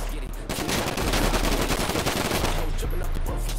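A drive-by shooting in Grand Theft Auto Online, heard as a dense burst of rapid gunfire that rattles continuously for several seconds at close range, then tapers into scattered shots.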